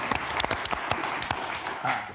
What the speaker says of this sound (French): ça s'applaudit, mesdames, messieurs